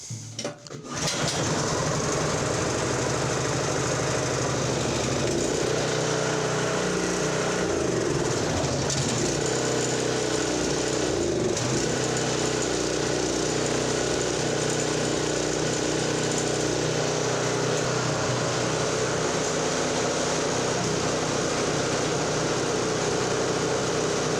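A Toro 721 snow thrower's petrol engine runs steadily and loudly at close range for the whole stretch, a continuous high-pitched buzzing drone with no talk over it.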